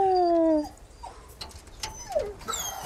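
Dog whimpering and howling in the Resident Evil 4 Remake video game: a drawn-out, wavering howl in the opening half-second, then softer whines and yelps over faint game ambience.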